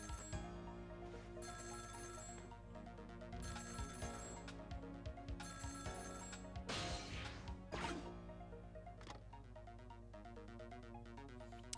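A video game telephone rings on the Nintendo DS in Ghost Trick: Phantom Detective. Bursts of electronic ringing sit over a steady looping music bed, with a few sharp crash-like hits in the middle.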